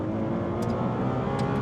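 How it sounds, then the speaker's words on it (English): Ferrari 296 Speciale engine under hard acceleration on a track, a steady loud engine roar running throughout with two brief crisp bursts near the end that fit quick gear shifts. "Love the sound of those shifts,"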